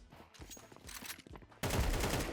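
Gunfire in Counter-Strike 2, soft scattered clicks and footsteps, then a sudden loud burst of rapid shots that continues to the end.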